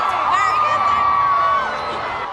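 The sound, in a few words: crowd applauding and cheering at film premiere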